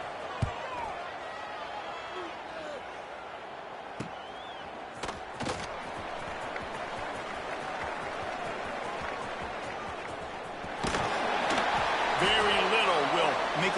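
Video game crowd in College Football 26 roaring and cheering after a punt return, a steady stadium din that swells louder toward the end.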